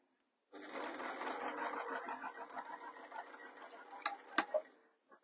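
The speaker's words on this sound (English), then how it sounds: "by habit I do a little back stitch" A sewing machine runs steadily while stitching a faux leather bag, then slows into a few short start-stop bursts and clicks as it makes a brief back stitch, close and clear.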